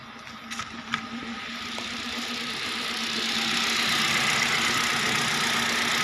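A Hyundai Accent with its engine warning light on idles roughly, a steady close-up hum with a low droning tone, a few light clicks early on, and a slowly rising level.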